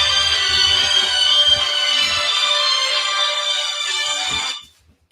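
Mobile phone ringtone going off, a bright sustained electronic tone pattern played loudly for over four seconds before cutting off abruptly, with faint low thumps underneath.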